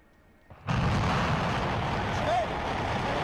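Shenzhou 9 rocket engines igniting at launch: a sudden loud, broad roar kicks in and holds steady and heavy without letup.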